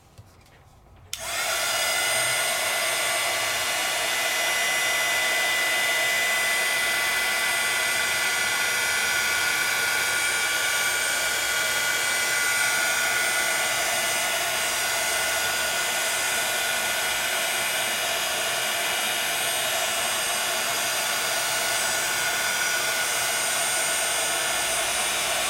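A heat dryer blows onto Cosmic Shimmer Pixie Sparkle Powder on black cardstock, switching on after a brief quiet moment and then holding a loud, steady whirring roar without a break.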